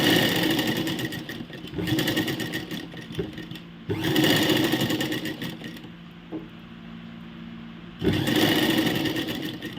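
A sewing machine stitches lace onto a tray cloth in steady mechanical runs, stopping briefly twice before starting up again, close and fairly loud.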